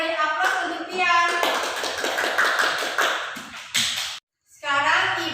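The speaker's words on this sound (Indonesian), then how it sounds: "Sekarang kita beri aplaus untuk Bian." Classroom applause for a student: a burst of many hands clapping, dense and lively for several seconds, with children's voices mixed in, breaking off briefly before clapping resumes.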